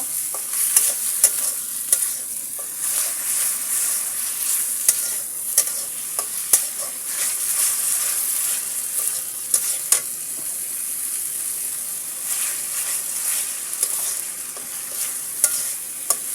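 Ginger garlic paste fries with onions in hot oil for a chicken and chana dal curry, a steady close sizzle broken by frequent scraping stirs, no talking.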